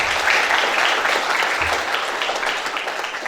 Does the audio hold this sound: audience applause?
yes